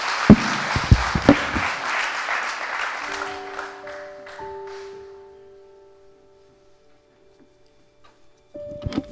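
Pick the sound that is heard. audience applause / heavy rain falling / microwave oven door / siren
audience applause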